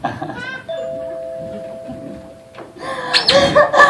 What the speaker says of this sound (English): I'm going to ring her doorbell.